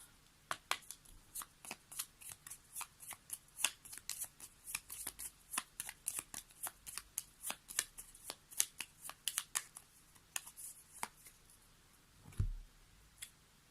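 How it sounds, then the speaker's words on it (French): Oracle cards being shuffled by hand, a long run of crisp, rapid riffling clicks and flutters in an irregular rhythm, close and fairly soft, with no voices. "aujourd'hui j'avais envie de prendre aussi une petite carte de cet oracle"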